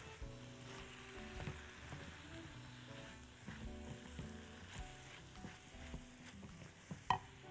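Chicken sizzling and frying in a wok, a soft, steady crackle with occasional stirring scrapes and one sharp clink near the end, quiet and with no voices.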